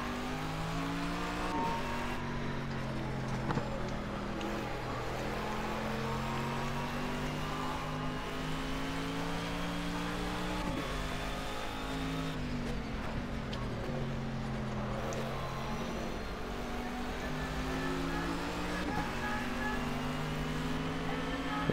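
A race car engine in Project Cars, heard driving from the third-person view, revs up repeatedly through the gears, each rise ending in a drop at the shift, steady and close throughout.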